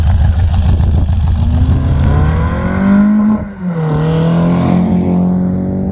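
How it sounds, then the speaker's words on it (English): A loud, lumpy idle from the cammed, carburetted engine of an 1980s Peugeot 205 GTi stage rally car, with a choppy, uneven burble, the pitch rising briefly with a blip of throttle before settling back. "the noise on this thing, the cammed idle is beautiful"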